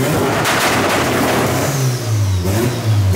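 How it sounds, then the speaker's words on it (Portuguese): A car engine revving hard, rising and falling loudly for a few seconds, close by. "eu vou ficar acelerando"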